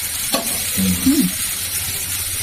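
Water poured into a pan of frying vegetables and bori sets off a loud, steady hiss that fills the whole moment, with a short stirring knock near the start.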